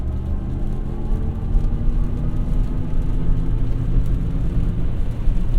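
Interior of a Chevy electric car accelerating onto a main road, a steady broad road rumble and tire hum with a faint motor whir, constant and close, with no talking.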